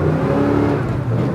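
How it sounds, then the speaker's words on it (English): Chevrolet Silverado pulling away hard from a dead stop with its tires smoking, engine roaring loud and close in one continuous surge with a rising tone. "Should we get the El Silverado from a dead ass stop?"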